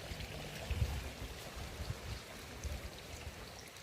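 Water flows steadily in a stream in Kampung Batu Karut, a village full of fish ponds, a soft continuous rushing with a low rumble, alone without talking.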